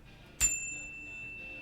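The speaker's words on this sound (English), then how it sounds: "I'm going to chime my bell and we will officially start this quest." A single bell or chime struck once, a sharp bright onset followed by a clear ringing tone that sustains and slowly fades in a quiet room.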